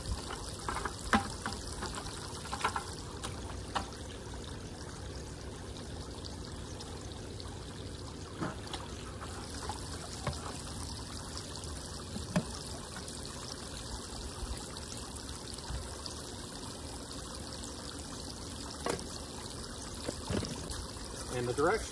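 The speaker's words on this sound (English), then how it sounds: "Let's add some acid." Acid pours into a backyard swimming pool during an algae treatment, a continuous trickling, splashing stream of liquid running close by for a long stretch, with occasional light clunks.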